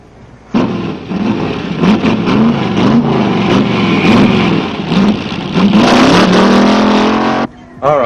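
A car engine revs and roars loudly past at close range, surging and fading over several seconds, with brief voices mixed in.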